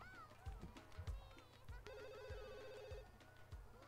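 A telephone rings repeatedly in The Sims 2, a steady electronic ringing tone heard partway through over game music and rhythmic thumping sound effects.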